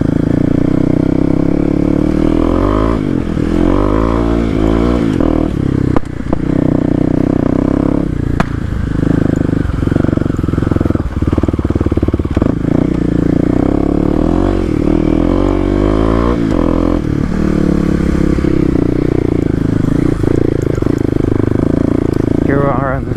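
A Kawasaki KLX250 dirt bike rides over gravel, its engine droning and surging through gear changes with crunchy clatter underneath, while a rider talks over the noise most of the time.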